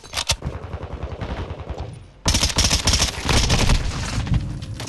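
Close, dense automatic gunfire in Call of Duty: Modern Warfare II, starting as scattered shots and swelling into a loud continuous barrage after a couple of seconds.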